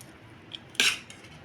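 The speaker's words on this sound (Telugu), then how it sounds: "ఇప్పుడు మొత్తం మిక్స్ చేసేసుకుందాం" A spoon scrapes and clinks against a pan while mixing tomato rice with roasted peanuts, a brief close metallic scrape burst after a faint tap, quiet otherwise.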